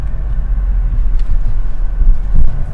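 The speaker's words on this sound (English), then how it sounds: "we can try it out over the speed bump" A 2024 Mazda MX-5 Miata RF GT rolling over a speed bump, heard from inside as a loud, close, continuous low rumble of road and suspension noise with a slight swell near the end.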